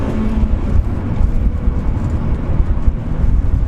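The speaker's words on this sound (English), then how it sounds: "Obviously rev it up a little bit higher and you'll hit VTEC when we come out of this bend." A Honda Civic Type R Championship White Edition revving high through a bend, a loud sustained engine roar heard from inside the car with road rumble, rising and churning steadily, no one speaking.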